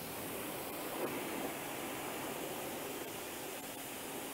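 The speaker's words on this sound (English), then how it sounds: "Let's rinse off." Steady broadband water spray rinsing a car's surface, a continuous loud hiss with no breaks and no talking.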